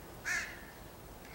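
Crows cawing outdoors, where magpies are also about: one clear caw at moderate distance, then the start of another at the end, over faint background hiss.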